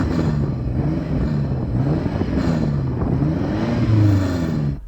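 A BMW M5 Competition engine revs steadily against its soft limiter, a loud sustained roar with wavering pitch that climbs and dips through several short blips, swelling near the end before cutting off.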